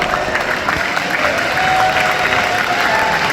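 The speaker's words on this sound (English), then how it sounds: "Give her a round of applause" An audience at a Kangen water machine demo event applauds a presenter's wife in a steady, dense wash of clapping that holds at an even level throughout.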